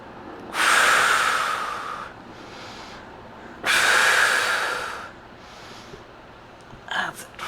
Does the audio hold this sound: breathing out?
yes